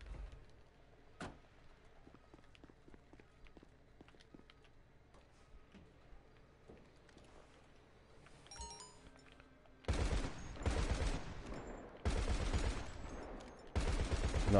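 Anti-aircraft guns on a trailer firing in a video game: loud rapid bursts of gunfire in three or four runs, each a second or two long, after a quieter stretch of scattered clicks and ambient game noise.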